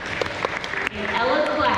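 Applause for the most improved students at an elementary school awards ceremony, a room full of clapping heard while a voice talks over it, the clapping swelling to fuller volume toward the end.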